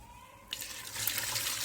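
Water pours steadily into a bowl of lentils being rinsed, a quiet trickle swelling after half a second into a continuous, splashing rush that holds to the end.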